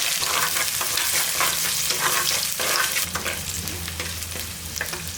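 Chopped shallots, mustard seeds and curry leaves fry in hot oil for a spinach sambar, a loud dense crackling sizzle up close with stirring, easing slightly after a few seconds.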